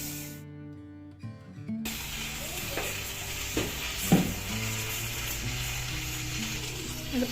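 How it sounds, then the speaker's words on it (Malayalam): Sesame oil heats in a cheenachatti (wok-style pan) on a gas stove for pineapple pickle, giving a steady, moderate sizzle with a few scraping clicks after a brief quieter start. "ഒരു ചീനച്ചട്ടി ഗ്യാസിൽ വെച്ച് ചൂടാക്കാം. ഇതിലേക്ക് നമുക്ക് നല്ലെണ്ണ ചേർത്ത് കൊടുക്കാം."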